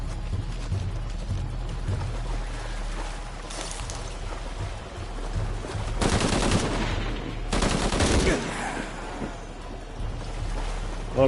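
Gunfire in the Shadow of the Tomb Raider video game, with several bursts of automatic fire loudest around the middle of the clip over a rumbling game ambience and no speech.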